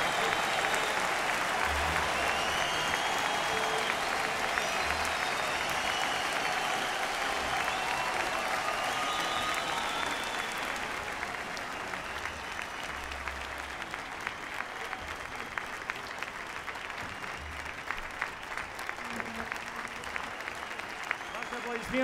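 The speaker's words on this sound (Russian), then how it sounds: "аплодисменты" Concert audience in Odessa applauds at length, a full sustained clapping that eases slightly midway, with a brief spoken thanks heard over it.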